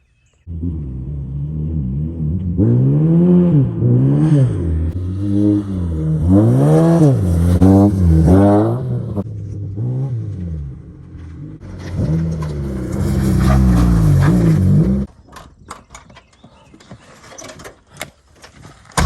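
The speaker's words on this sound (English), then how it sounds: "Run this sucker around the track like a rally car." A small car is driven hard around a dirt race track like a rally car, its engine revving up and down in repeated rising and falling surges, then cutting off into rattles and clunks.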